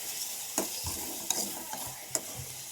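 Onion and tomato being stir-fried in a pan for a scrambled egg fry, with a steady soft sizzle broken by a few sharp spatula scrapes and taps against the pan.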